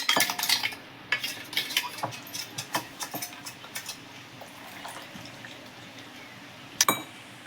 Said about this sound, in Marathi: असं थोडंसं पाणी घालून तेच असं हलवून घ्यायचं